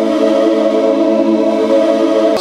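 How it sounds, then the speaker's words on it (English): An airy synthesizer pad holds sustained programmed chords, a smooth, steady layered tone that rings evenly throughout before cutting off at the end. "So I've programmed in some chords that should go over the top that sound like this."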